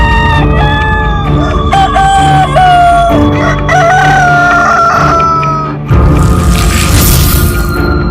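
A rooster crows loudly and close, several wavering calls in succession, with clucking fowl and rough background clatter around it; a short noisy burst follows near the end.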